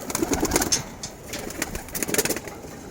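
Male pigeons in a loft coo in soft, low, throaty bursts, several birds close by, with a faint rustle of wings in the background.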